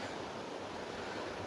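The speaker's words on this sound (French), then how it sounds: "avec le bruit de l'eau qui coule" A small stream flows steadily beside a hiking trail on the GR65 Camino route in France, giving a soft, even rush of running water, faint and unbroken with no voices.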